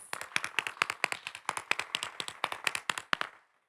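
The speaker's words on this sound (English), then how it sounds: "Can we get a round of applause for the candidates?" An audience at a superintendent stakeholders' meeting claps for the candidates. The sparse, crisp claps land in quick succession, sounding like a small group nearby, and stop abruptly, leaving silence.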